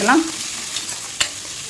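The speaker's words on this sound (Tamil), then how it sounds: "இதை நல்லா கிளறி" Onion, peanut and plantain mix stirred in a frying pan, a short scrape with soft sizzling, a sharp clink of the spoon near the end, close and moderately loud with no talk.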